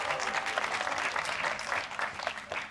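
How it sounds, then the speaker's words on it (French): Applause from the crowd at a French Shetland pony federation congress as a presenter enters, dense steady clapping filling the room for a few seconds, loud and close. "elle va rentrer sous les applaudissements de la foule en délire"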